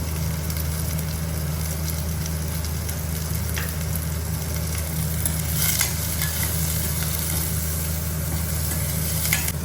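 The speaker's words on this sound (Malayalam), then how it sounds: "ഇഞ്ചി വെളുത്തുള്ളി പേസ്റ്റ് ഇതിട്ട് ഒരു മൂത്ത മണം വരുമ്പോൾ ഉള്ളിയിട്ട് വഴറ്റുക." Onions sautéing with ginger-garlic paste in a pan for Afghani chicken curry, a steady close sizzle of frying with occasional scrapes of stirring, continuous and alone.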